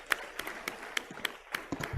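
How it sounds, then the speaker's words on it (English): In a session of the House of Representatives, a small group claps sparsely for a visiting guest, with separate sharp claps spaced in an uneven rhythm heard plainly in a quiet chamber. "Let's give him a round of applause."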